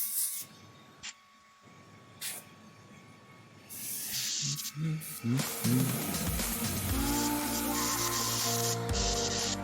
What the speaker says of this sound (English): Whose compressor is doing that?